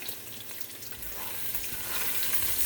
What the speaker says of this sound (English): now that our sausages have some brown on them